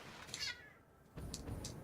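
A cat gives a short, faint meow, followed by quiet rustling; brief and soft, as if from across a room.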